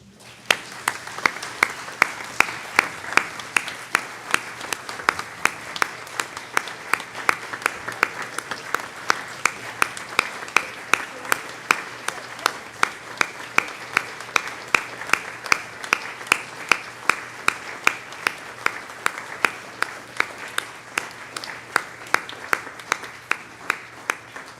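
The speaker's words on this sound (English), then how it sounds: "I think we all just need to applaud for Anne." Audience applause at a poetry service, steady dense clapping from a crowd lasting throughout, moderately loud and close, with no talk over it.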